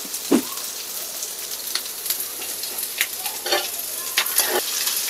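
Curry leaves hit hot oil in a home kitchen and give off a loud, continuous sizzle with crackling pops and splatters that burst out every second or so. No one speaks over the frying.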